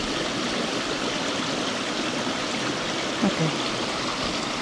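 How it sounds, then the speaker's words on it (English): A pretty waterfall and flowing stream along a muddy walking trail give a steady, broadband rush of water that fills the whole clip, with a brief spoken word near the end. "Oh, there's that pretty waterfall."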